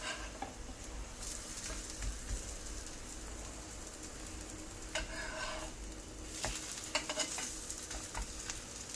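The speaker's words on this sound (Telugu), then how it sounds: "ఇప్పుడు మనం కట్లెట్ ఫ్రై చేసుకుంటున్నాను." Bottle gourd cutlets frying in cold-pressed virgin coconut oil in a pan, a soft, steady sizzle with scattered crackles and a few spatula clicks, close but quiet, no voices.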